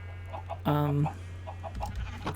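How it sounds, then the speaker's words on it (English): Chickens cluck in a chicken house in the video game Minecraft, modpack FTB One: a short burst of clucks over a steady low hum, with faint clicks and background game noise after it. "I've got a bunch of different kinds of chickens"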